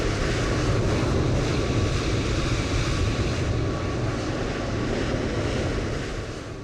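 A DHL aircraft moving near runway 18 in Microsoft Flight Simulator 2020, at Frankfurt airport: a steady, loud broadband roar of jet engine noise, holding even throughout and easing slightly at the end.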